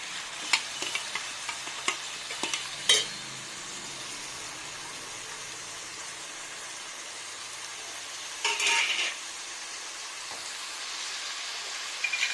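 Ground masala tipped into hot oil with green chillies sizzles and fries steadily in a pan for brinjal and fish curry, with a few spoon scrapes and clinks of stirring near the start and a brief louder burst of sizzle later.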